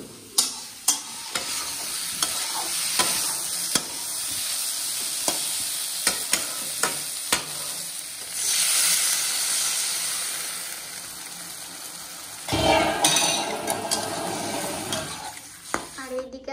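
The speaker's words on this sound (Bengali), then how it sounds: "এখন সয়াবিন রান্না করছি" Soybean curry cooking in a pan, with a steady sizzle and steam hiss broken by sharp clacks of a spoon against the pan, plus a louder burst of sizzling near the end.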